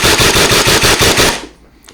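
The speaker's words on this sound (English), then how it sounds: "Just gonna fully mag dump to show you that there's no jams." A Nerf Challenger Mk3 Pro Max electric blaster fires full auto in a rapid, even burst of loud mechanical shots that stops abruptly after about a second and a half, leaving near silence.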